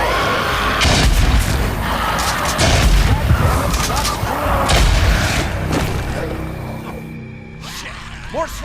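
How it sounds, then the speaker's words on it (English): Molotov cocktails burst into fire on freaker nests in the zombie game Days Gone, producing loud booming blasts and crackling flames in a dense, continuous roar, with faint voices beneath. "the player can use Molotovs to destroy them"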